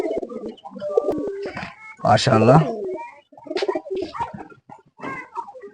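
Pigeons coo in bursts, with one loud rolling call in the middle and softer calls around it, close by, while someone speaks briefly.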